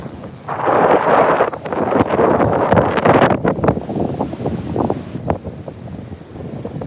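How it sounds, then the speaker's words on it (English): Ocean surf at Juno Beach near sunset, a broad wash of breaking waves heavily buffeted by wind noise on the microphone, loud and continuous throughout. "Look at those waves."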